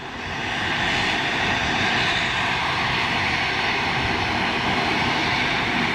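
Ilyushin IL-76 jet engines roar through the takeoff roll, a loud, broad, sustained rumble that swells in the first second and then holds steady with no talk.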